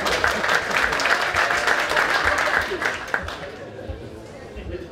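Loud audience applause and cheering at a costume contest that fills the room, then gradually thins out and fades toward the end.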